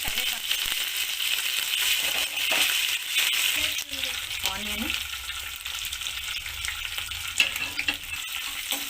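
Green chillies and curry leaves sizzle in hot oil in a pan while making poha, a steady crackling fry with occasional stirring clinks and a brief voice.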